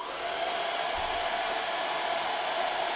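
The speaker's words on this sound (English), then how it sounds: "then I've got a hairdryer. I'm just going to show you and just demonstrate this for now" A hair dryer blows onto a mini wind turbine with a steady, loud whooshing hiss and a constant motor whine, running without pause from start to finish.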